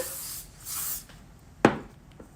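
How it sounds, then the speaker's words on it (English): Two quick hissing bursts of aerosol heat-protectant hairspray close by, sprayed onto a section of hair, followed by a sharp click. "the heat protectant hairspray, and I'm spraying it on the section."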